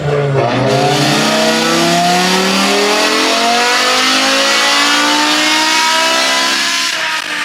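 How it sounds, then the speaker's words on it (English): A tuned V10 engine revving hard, its loud rising howl sweeping upward in pitch after a brief dip near the start and holding a sustained high-revving scream close up. "the V10 was finally alive from idle to redline"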